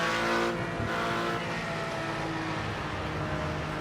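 A Porsche tears around the Nürburgring Nordschleife, its engine holding a loud, steady high-revving whine with tyres hissing underneath, close and continuous with no break.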